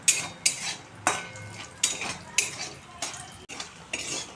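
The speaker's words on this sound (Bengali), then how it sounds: "এবার ওই তেলেই 10 থেকে 12টা বড়ি আমি একটু লাল করে ভেজে নেব।" Bori lentil dumplings frying in oil left from fish for rui fish curry, with repeated sharp clinks and scrapes of a utensil against the pan over a soft sizzle, roughly every half second.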